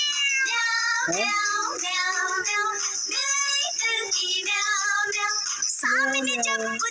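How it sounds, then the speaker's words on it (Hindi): A cartoon cat meows repeatedly in a Hindi children's nursery rhyme, with clear, close, melodic meows following one another steadily for several seconds with no talk over them. "बिल्ली करती म्याऊ म्याऊ"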